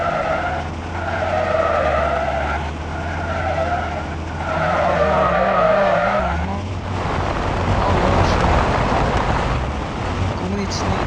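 A car drifting in a driving video game, with repeated long tire squeals and skids over a continuous engine drone, followed by a rougher hiss from sliding on sand.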